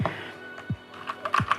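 Keys are pressed on a Keychron K8 mechanical keyboard: a few separate strokes with deep thocks and crisp clacks, unhurried and close, with no voices.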